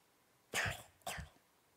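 A voice imitates a deep, rasping tubercular cough from diseased lungs: two short, heavy hacks in a row, close and fairly loud, then quiet.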